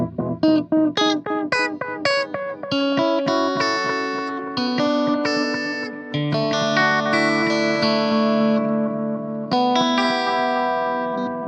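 Electric guitar run through a vintage Boss DM2 analog delay set to its longest delay time, plucked notes repeating into a dense, sustained wash of echoes that builds and swells over several chords, loud and alone.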